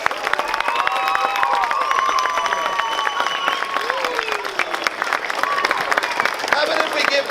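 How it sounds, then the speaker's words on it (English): Parents at a school spring concert applaud the performers, a dense, continuous wash of clapping and crowd noise, with whistle-like tones and chatter mixed into the steady roar. "How about if we give all our performers another big round of applause?"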